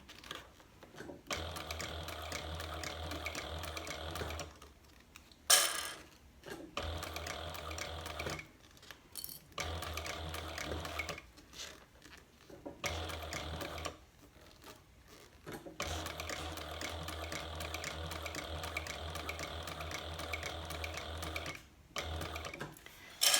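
A sewing machine stitches handbag shoulder straps in quiet, steady runs of rapid mechanical whirring and ticking, stopping and restarting several times with short silent pauses between bursts.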